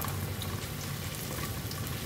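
Chopped ginger and garlic frying in oil in a pan for chicken congee, a steady crackling sizzle with a low bubbling undertone, moderately loud and unbroken, no talking.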